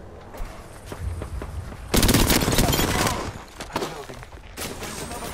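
In Apex Legends, the player is hit by rapid bursts of automatic gunfire, with scattered shots and then a loud sustained volley in the middle.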